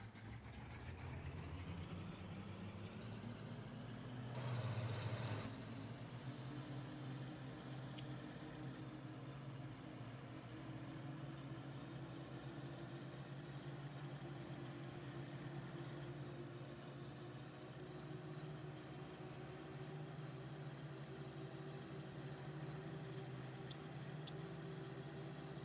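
Tractor engine in Farming Simulator, a faint steady low drone that rises slightly in pitch early on and then holds, with a brief louder burst near the start and no talking.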